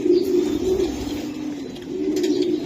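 Racing pigeon chicks give low, throaty coos close by, two rounded pulses with a brief dip between them, with no talk.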